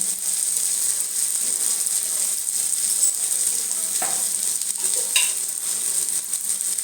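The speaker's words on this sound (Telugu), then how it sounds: "వాటిని కూడా ఫ్రై చేసుకోవాలి" Spices and tomatoes sizzle steadily in hot oil while being stirred for a green gram curry, a continuous close frying hiss with a few brief scraping clinks, no voices.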